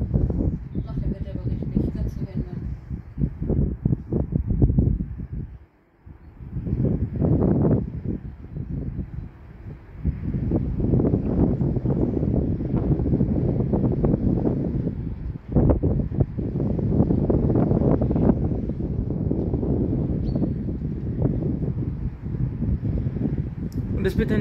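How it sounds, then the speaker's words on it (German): Wind buffeting a phone microphone outdoors, heavy low rumbling gusts that swell and drop with a brief lull partway through, loud and close throughout. "Aber der Wind nervt."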